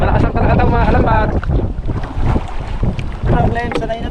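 Strong wind buffets a small boat out at sea, roaring and gusting hard against the microphone with water sloshing beneath, while a voice is partly heard through the noise.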